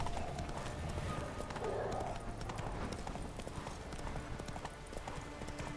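Hooves clip-clop steadily from a horse ridden in The Witcher 3, a continuous soft rhythmic patter at moderate volume, with a brief whinny-like tone and game ambience underneath.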